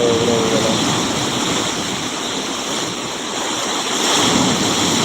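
Sea waves crash and wash onto the shore at Kottakkuppam beach, a loud continuous roar of surf with steady rushing swells and wind across the microphone, no voices.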